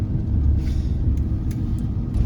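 Car engine with Holley Sniper fuel injection idling high, a steady close low rumble with faint clicks and hiss above it.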